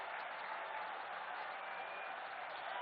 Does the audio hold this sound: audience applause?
yes